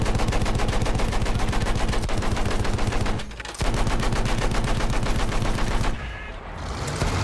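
Dense, continuous gunfire from the Battlefield 1 video game, rapid automatic bursts layered with heavy shots, loud and close, with a brief lull near the middle and another dip toward the end.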